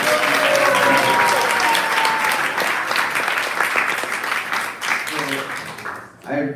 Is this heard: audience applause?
yes